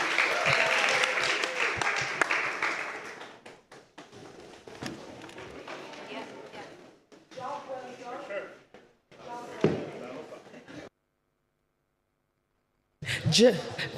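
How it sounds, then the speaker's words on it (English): Forum audience applauding a panel, scattered clapping at the start that thins out, broken up by bumps, footsteps and people talking, followed by a stretch of silence. "Another round of applause, ladies and gentlemen, for our panelists"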